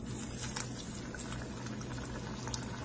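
Aloo donut, a ring-shaped potato fritter with a hole in the middle, frying in hot oil, giving a steady close bubbling sizzle with fine crackling spatter throughout and no talk.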